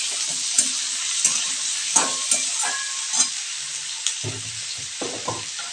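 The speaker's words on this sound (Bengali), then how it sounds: "একটু নাড়া দিয়ে দিই, না হলে লেগে যাবে।" Water spinach stems sizzle steadily in a hot pan while a utensil stirs them, with a constant frying hiss punctuated by regular scraping knocks.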